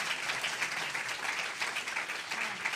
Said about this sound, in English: could you all please give her a round of applause?